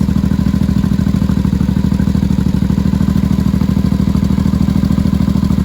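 A barn-find 1982 Yamaha Maxim 750 or 1983 Honda Shadow motorcycle engine idling on choke with untouched carburetors, a loud, close, steady rapid putter that holds evenly throughout.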